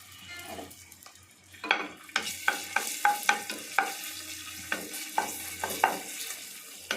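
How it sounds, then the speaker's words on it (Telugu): Ginger garlic paste sizzling and frying in hot oil, with a steady crackle under repeated sharp clinks of a spoon stirring against the pan. "ఆయిల్ కాగింది ఫస్ట్ అల్లం వెల్లుల్లి పేస్ట్ జస్ట్ ఒక్క నిమిషం అలా వేపుదారంతే"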